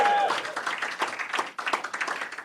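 A live audience at a podcast recording in a lounge cheers and claps, a dense wash of applause with scattered whoops rolling on for a couple of seconds with no pauses.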